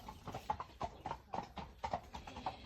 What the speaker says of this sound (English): Some horses going past.